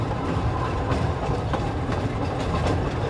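A train brakes gently as it enters a station, rolling along its rails with a steady, heavy rumble and faint rhythmic clacks of wheels over track joints, close by and continuous.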